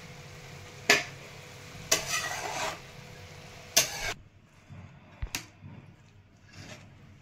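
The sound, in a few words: stirring and sautéing chana dal and fenugreek greens in oil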